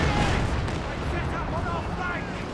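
Land Mattress rocket artillery in Company of Heroes 2, a heavy rumbling barrage of booms and launches running continuously, with a voice talking over it.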